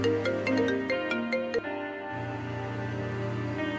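An incoming-call ringtone plays as a melodic electronic tune with a quick run of notes, then settles into a sustained tone, moderately quiet, in a TV drama scene.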